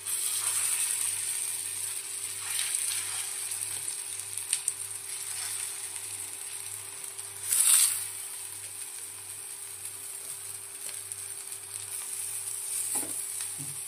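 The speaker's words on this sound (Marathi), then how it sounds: "तेल छान तापलेलं आहे, तर हे मी पॅटीस त्याच्यावर ठेवून देते." Potato patties for a fasting-day recipe shallow fry in hot oil over a low flame, giving a steady, close sizzle with a soft hiss throughout, one brief louder crackle midway and a faint background hum.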